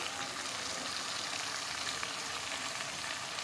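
Meat with garlic sizzling in a hot pan, a steady dense frying hiss that stays close and fairly even throughout, with no voices.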